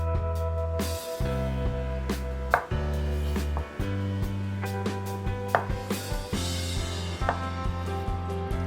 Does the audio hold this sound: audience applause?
no